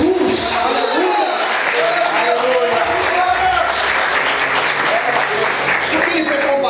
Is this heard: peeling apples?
no